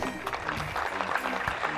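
An audience gives steady, moderately loud clapping to welcome a comedian onto a television comedy show stage, with no talk over it.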